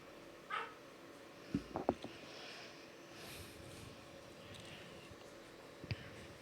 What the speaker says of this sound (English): Let me go see if these dogs fighting or something, cause they sound like they bumping.